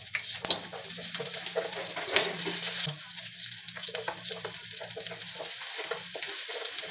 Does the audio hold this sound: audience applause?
no